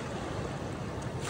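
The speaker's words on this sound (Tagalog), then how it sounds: "Pakinggan nyo yung himig ng alon." Ocean waves wash steadily onto the shore at a beach campsite in Morong, Bataan. The surf forms a continuous, even roar with no voices.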